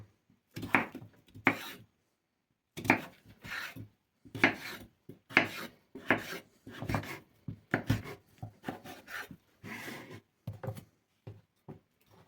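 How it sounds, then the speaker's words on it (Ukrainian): A knife cuts pumpkin into strips for amber pumpkin jam, giving a series of rasping, scraping strokes in separate bursts about a second apart, close and fairly clear with no talking. "І буду різати їх отак. Спочатку на полоски."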